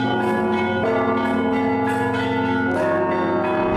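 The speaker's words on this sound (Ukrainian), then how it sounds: "У сучасній Росії церковні дзвони звучать на підтримку ракетних ударів." Church bells in Russia ring loudly and continuously, several overlapping tones sounding close with rhythmic repeated strikes layered over a sustained resonant hum.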